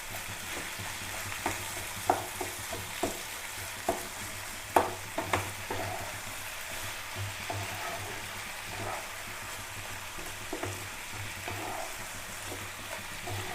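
Spice paste with vegetables and soft tomatoes sautéing in a pan for tomato rice, a quiet steady sizzle with intermittent spatula scrapes and taps, close and without talk.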